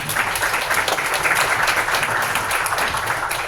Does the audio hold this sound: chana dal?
no